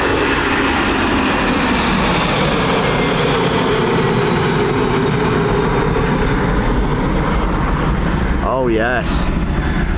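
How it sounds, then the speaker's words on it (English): A Boeing 767 jet departs from runway 28R at Dublin Airport, its engines giving a loud, continuous roar with a rumbling low end, while a voice speaks briefly near the end. "this 767 now on departure"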